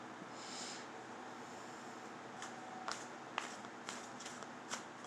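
Tarot cards are shuffled quietly, with soft riffling and a few sharp card snaps and taps near the end, faint against low room hiss and no talk.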